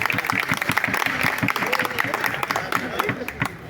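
An audience claps loudly at a district Congress committee Gandhi Jayanti event. The applause is dense and sustained and runs under a voice speaking over the crowd.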